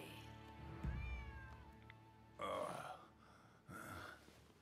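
A stray cat in the video game Rise of the Ronin meows in several drawn-out, wavering cries, close and fairly clear, separated by brief pauses, over a low ambient game background.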